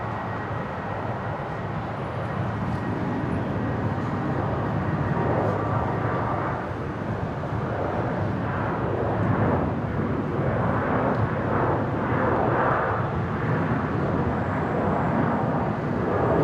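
Rex 913 rolls for takeoff at Brisbane airport as a broad, steady engine roar, heard from a distance and swelling gradually across the whole stretch.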